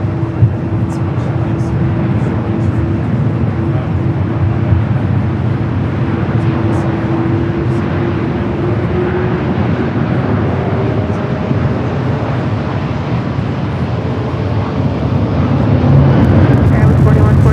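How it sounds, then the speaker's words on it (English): An Aer Lingus A330-300 airliner takes off from runway 24 left at LAX, its engines a loud, sustained roar that steadily builds, heard from the airfield side with talk and radio chatter over the top. "A330-300 heading back to Dublin"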